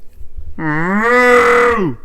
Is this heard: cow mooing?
yes